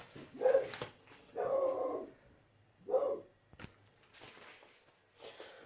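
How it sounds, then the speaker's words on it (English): A dog in a home kitchen barks in three separate bursts, the middle one drawn out, with shuffling footsteps and light clatter in between, close and fairly loud, no speech. "Oh, dog's kicking off."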